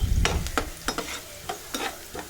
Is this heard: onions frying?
yes